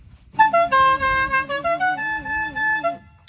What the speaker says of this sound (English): Show us the horn. And it's an air horn, correct?